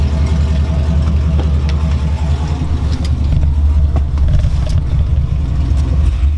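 A 2008 Chevrolet Silverado with headers and a straight pipe exhaust runs at a steady, loud, deep idle, its low rumble constant and close throughout with no talking.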